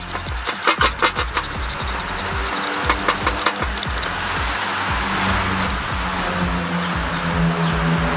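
Metal scraping on a clogged dirt bike carburetor during cleaning, a series of short, close rasping strokes in an uneven rhythm early on, then steadier rubbing and scratching.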